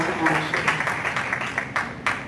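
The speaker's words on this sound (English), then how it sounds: "Please give a round of applause to Dr. Duran Vallow" An audience at an education equity conference applauds a speaker being introduced, a dense, steady wash of clapping with a few sharper claps standing out, with a voice faintly underneath.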